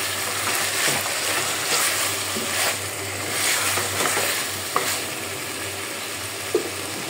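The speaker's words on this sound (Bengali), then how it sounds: "আমার মাংসটা কিন্তু আস্তে আস্তে কষানি হয়ে যাচ্ছে।" Spiced beef sizzles and fries in a pan while being stirred, a steady broadband hiss with occasional scrapes and clicks of a utensil, close and fairly loud, with no talking.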